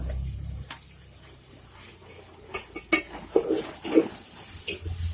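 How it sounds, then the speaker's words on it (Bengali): Onions and turmeric stirred in a metal cooking pot for a light chicken curry, with a quiet stretch followed by several close clinks and scrapes of a spoon against the pot. "একটু নাড়াচাড়া করে দেব পেঁয়াজটা"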